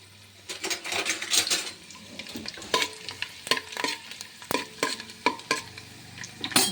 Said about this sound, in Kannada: ಸಣ್ಣದಾಗಿ ಹೆಚ್ಕೋಬೇಕು ಬೆಳ್ಳುಳ್ಳಿ ಸ್ವಲ್ಪ ಫ್ರೈ ಆಗಬೇಕು